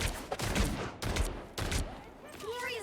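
Video game gunfire lands in three heavy, booming bursts about half a second apart, loud and close, followed by a quieter tail with faint electronic whines.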